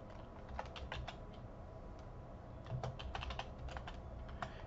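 Typing on a computer keyboard, with rapid bursts of quiet key clicks in two uneven runs over a low background hum, no speech.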